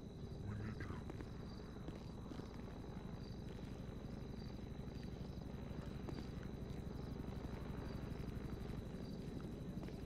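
Steady low rotor thrum of a video game helicopter runs throughout, with a constant engine drone and faint high whine; no one speaks.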